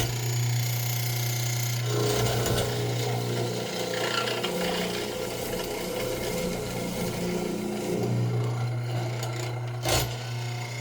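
A Powermatic 701 mortiser drives its chisel into wood and draws it back out, giving a rough rasping and grinding over a steady motor hum, with a louder knock near the end.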